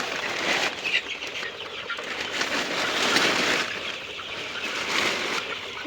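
Chickens in a poultry farm beside a pond near a railway line, startled and flapping their wings, a steady, dense rustling flutter that swells and fades, close and moderately loud, with no talk.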